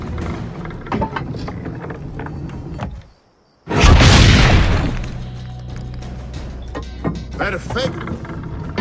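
Cannon firing in Assassin's Creed: Brotherhood during shooting practice, a single heavy boom after a brief hush, ringing out loudly amid clanking mechanisms, with Spanish chatter around it.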